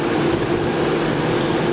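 A 2001 Chevrolet Corvette Z06 engine pulls in second gear, a steady, loud, low rumble heard from inside the car with no one talking.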